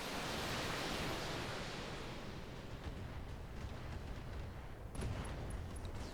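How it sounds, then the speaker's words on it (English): An ammo explosion in the BattleTech mech video game, a dense rumbling roar of broadband noise that stays loud throughout, with a sharper crackling burst near the end. "Ammo explosion."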